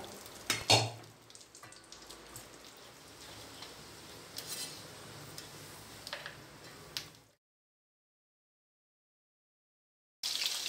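Almonds and other nuts frying in hot oil for a crunchy homemade Tamil mixture snack: a steady close sizzle with a few utensil clinks, stopping abruptly into silence before the frying briefly returns at the end.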